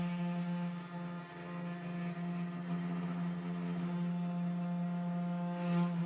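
A Genmitsu Cubiko CNC machine makes its first cut on a workbench, producing a quiet, steady motor hum with a faint whine layered above it and no other sounds around.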